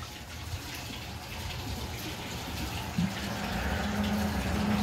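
A toilet flushing poorly: a steady, weak rush of running water continues throughout, with a faint tone rising briefly about three seconds in, at close range.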